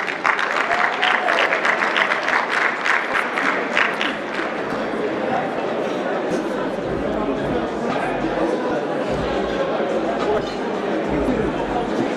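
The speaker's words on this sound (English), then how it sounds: "May we give a big round of applause to Dr. Adrian Abrahams." An audience at a netball championship closing function and awards ceremony gives loud, sustained applause, with crowd chatter and cheering mixed in throughout.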